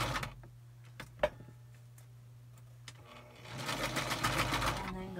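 A sewing machine zigzag-stitches an envelope for a junk journal: sparse clicks and a low hum at first, then a dense rapid run of stitching noise near the end, close and fairly quiet.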